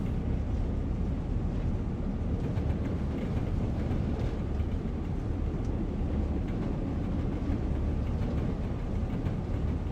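A freight train in Train Sim World, running between Manchester and Leeds, rumbles along steadily, a constant low roar of engine and wheels with no pauses, loud and close.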